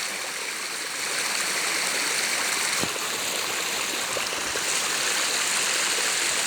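A small forest stream flows steadily and gurgles, with a continuous close rushing of water and no voices.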